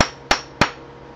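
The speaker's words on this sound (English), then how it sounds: "So you put the rivet in there, put this on top, whack it with a wooden hammer" Wooden hammer striking a rivet setter to set a rivet in a leather sheath: three sharp, loud knocks spaced evenly about a third of a second apart, each decaying quickly, heard up close with no talk.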